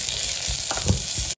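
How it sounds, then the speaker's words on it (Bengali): Vegetables frying in a little oil inside an AGARO Regency multi cook kettle, a steady close sizzle with soft stirring bumps, no talk, cutting off abruptly at the end. "এবারে হালকা করে আমি এগুলো ফ্রাই করে নেব।"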